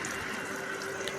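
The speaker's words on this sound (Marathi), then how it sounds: "मोटरमध्ये पाणी भरायचं काम चालू आहे." Water pours steadily into a water pump motor, a continuous soft rushing flow heard alone at low volume for about a second.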